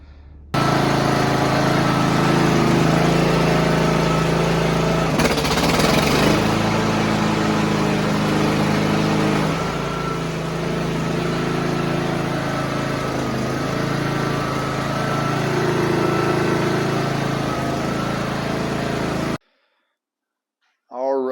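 A flood-damaged lawn mower engine runs steadily and loud for most of the time, a continuous close drone with a brief rougher burst early on, then cuts out near the end before restarting.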